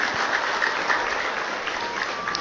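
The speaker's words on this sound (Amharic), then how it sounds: "አጨብጭቡና ገለጹ።" An audience at an Amharic religious talk claps together, a continuous, evenly dense burst of applause that holds at a steady level from start to finish with no voice on top.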